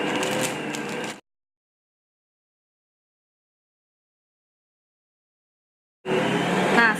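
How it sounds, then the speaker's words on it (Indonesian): An old Bosch stand mixer kneads milk bread dough, its steady motor drone running for about a second, cutting out into silence, then returning loud and close near the end. "saya pakai mixer Bosch yang model zaman dulu punya, yang di sini bisa buat blender, di sini buat mengadon ya"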